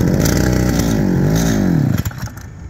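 A brush cutter's small engine fires up and revs, a loud close buzzing with a rising and falling pitch, then cuts out abruptly and sputters to a stop near the end.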